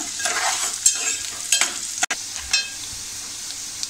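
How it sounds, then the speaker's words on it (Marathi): Onion sautéing over medium heat in a pan for a Malvani-spiced peas dish gives off a soft, steady sizzle, broken by scraping stirs and one sharp clunk of the spoon partway through. "आपल्याला मध्यम आचेवर हा कांदा थोडा परतून घ्यायचा आहे."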